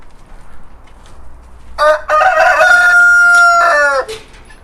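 A forest-chicken-breed rooster crows once, loud and close, a long rising then held call over faint farmyard background.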